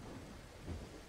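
Thunderstorm at sea in a ship scene: a faint, low rumble of thunder rolls under a steady wash of rain noise, swelling slightly midway through the short stretch.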